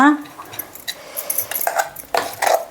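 A spoon scrapes and clinks against a pan while stirring freshly made gongura chutney with chili powder, giving brief loud metallic knocks and scrapes close by.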